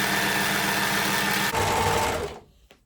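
A sewing machine stitches a rolled hem along a sleeve edge, a loud, fast, steady mechanical whir close up that runs for a couple of seconds, shifts pitch, then stops.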